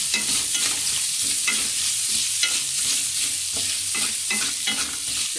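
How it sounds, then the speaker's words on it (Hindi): Boiled chicken fries with browned onion, ginger and garlic in a pan while being stirred, giving a steady loud sizzle with rhythmic scraping strokes, close up and continuous. "चिकन को थोड़ा मिक्स करेंगे।"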